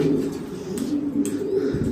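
Soft, low pigeon cooing repeats in gentle rolling phrases, close by in a rooftop loft, over a steady background murmur.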